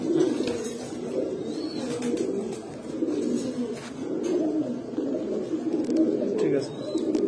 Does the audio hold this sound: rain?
no